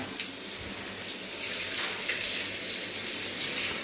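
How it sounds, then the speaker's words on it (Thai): Water runs and splashes steadily in a bathroom while a small child washes it, a continuous close hiss of flowing water with no clear breaks. "เด็กน้อยล้างห้องน้ำนะ"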